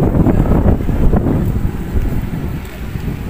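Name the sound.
wind at Manila Bay baywalk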